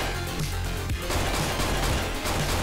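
Shots crack out in Hotline Miami 2: Wrong Number, a busy burst of gunfire layered over constant game music, with several sharp reports in quick succession.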